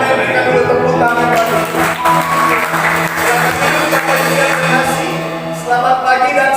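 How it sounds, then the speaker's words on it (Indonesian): A church congregation applauds steadily and fairly loudly, the clapping carrying on for several seconds over sustained organ or keyboard chords. "Berikan dulu tepuk tangan."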